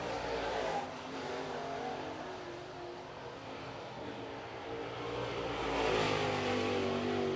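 A late model race car runs a qualifying lap at Cherokee Speedway, its engine droning steadily at a distance, swelling louder toward the end as it comes closer.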